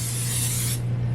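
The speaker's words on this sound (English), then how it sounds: "I'm going to go ahead and spray my bowl" Cooking spray hisses from a can into a mixing bowl in one steady, close burst lasting most of a second before cutting off, with a low hum continuing underneath.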